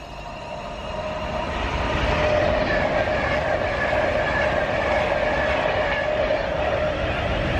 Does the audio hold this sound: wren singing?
no